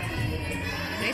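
A crowd cheers and murmurs in an arena at a women's college gymnastics meet between Maryland and Nebraska, a dense, steady roar of many voices with scattered shouts.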